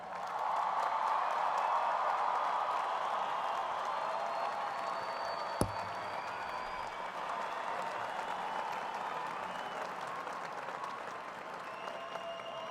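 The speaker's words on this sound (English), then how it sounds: "it's appropriate for us to clap some more for our new graduates" Long, steady applause from a large commencement crowd honouring new business graduates, a broad even roar of clapping with faint cheers mixed in, sustained throughout with one sharp knock midway.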